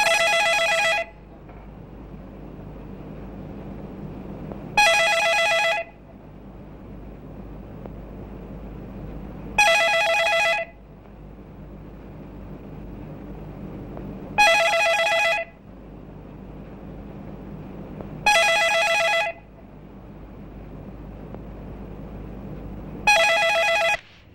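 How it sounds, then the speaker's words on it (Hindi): A telephone bell rings in short bursts about every five seconds, six rings in all over a quiet background hum. "टेलीफोन की घंटी बजती है।"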